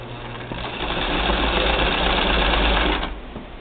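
The motor of a 1959 Singer Spartan sewing machine runs in a 3/4 size cabinet, a steady low hum and whir that swells slightly, holds, then eases off near the end; close, with no talking.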